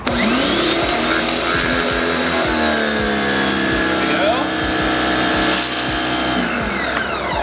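A Sun Joe electric pressure washer rinses a car with a steady, loud motor hum and hissing spray, its whine rising and falling with the trigger, while someone talks over it.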